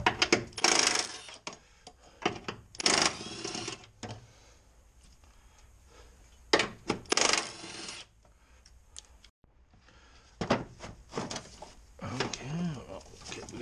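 Valve cover bolts from a Ford 5.4 3V engine are set down, with several sharp metallic clinks and rattles in bursts, close by, among scraping handling noises and some talk.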